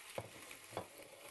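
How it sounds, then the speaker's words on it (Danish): Chicken pieces browning in hot oil in a pot for an Indian chicken curry: a quiet, steady frying hiss with two brief louder sizzles as pieces are stirred and turned, no voices. "Kyllingen den skal bare lige brunes og skiftes hele vejen rundt."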